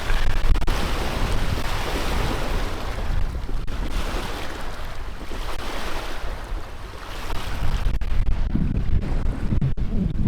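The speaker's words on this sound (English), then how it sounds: "It's pretty windy today." Steady, blustery wind buffets the microphone over the wash of surf and water aboard a Ranger Tug R27 boat, with gusts swelling louder near the end.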